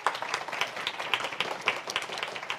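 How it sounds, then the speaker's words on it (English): An audience claps steadily in applause to welcome a political panel of MPs from six parties, a dense, continuous patter of many hands that stays even throughout. "Let's give them a round of applause and a welcome."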